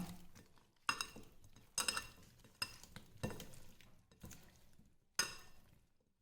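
Spoon stirring paneer tikka marinade of salt, turmeric and lemon juice in a bowl, a series of sharp clinks and scrapes against the dish at irregular intervals, close and fairly quiet with no talk.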